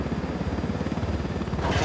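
Helicopter rotor and engine in Ghost Recon Wildlands, a steady, loud pulsing chop that runs under a player's talk throughout.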